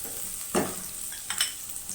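Soft onion and freshly added green chillies fry in a little oil in a pan for curry Maggi noodles, a steady close sizzle with a couple of stirring scrapes and no talk.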